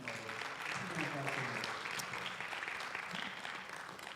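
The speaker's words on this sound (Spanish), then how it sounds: "dale un aplauso al Señor" A church congregation gives a steady, faint wash of clapping during a pastor's sermon, with a voice audible beneath it.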